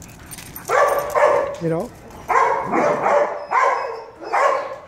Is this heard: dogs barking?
yes